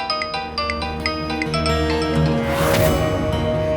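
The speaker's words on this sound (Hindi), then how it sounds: "राज का फोन।" A mobile phone rings with a repeating melodic ringtone in a Hindi TV drama scene, playing over background music that swells toward the end, with no talking.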